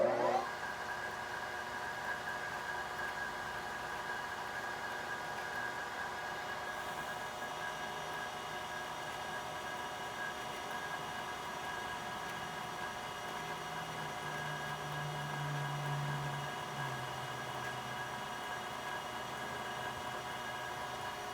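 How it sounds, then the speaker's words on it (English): A lathe form tool cuts a conical shape in metal for a small 3D printer nozzle, giving a steady machine whir with a faint rising tone partway through, continuous and moderately quiet. "I'm going to try and use it as a form tool to make my conical shape"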